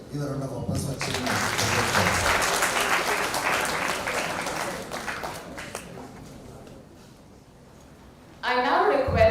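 An audience at a university hackathon applauds loudly and steadily, the clapping fading toward the end before a voice resumes on the microphone.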